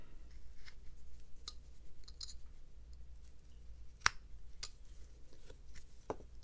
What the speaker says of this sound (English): Now I'm going to put in a little angle stop cut